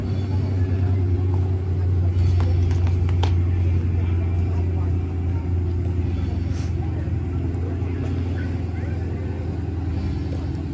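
Green Chevelle Super Sport muscle car engine at a car show, a steady low rumble running throughout with scattered faint clicks and background noise.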